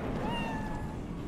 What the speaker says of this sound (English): It's a kitty cat, duh.